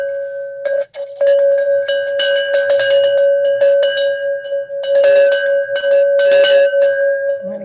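Bells and cowbell-like clanks ring loudly over a steady sustained tone during a wedding-themed lecture performance, with rapid irregular clusters of strikes and a short pause near the start.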